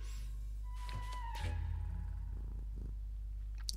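A cartoon cat in the hand-drawn point-and-click game Tsioque gives a short purring, meowing cry over a soft musical background, close and fairly quiet.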